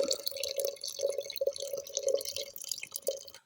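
Ash water pours steadily into a cooking pot, with a run of soft glugging, bubbling pulses close by and no voices.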